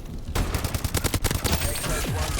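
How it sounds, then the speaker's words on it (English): An automatic shotgun in Call of Duty Advanced Warfare fires a rapid burst of about a dozen loud, close blasts in quick succession, followed by a brief ringing tail and background game noise. "I will give this automatic shotgun a try"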